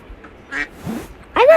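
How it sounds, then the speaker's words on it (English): A cartoonish duck quack sounds each time a bird character jumps in a Roblox obby game, with two or three short nasal quacks spaced apart and the last one loudest. "I just found out that it will make quack sound when you jump."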